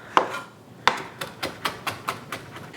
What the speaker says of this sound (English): I have some fresh dill here, so we're just gonna chop that up and add that